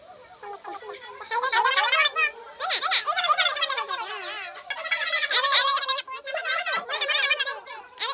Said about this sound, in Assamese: এয়া হৈছে হাঁহ আৰু ব্ৰইলাৰ।